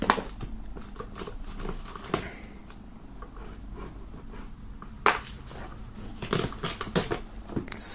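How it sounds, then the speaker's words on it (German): Plastic film is peeled and crinkled off a black and gold box, giving quiet rustling and crackling with several sharper tearing bursts, close by and with no voices. "Wir werden mal die Folie abmachen"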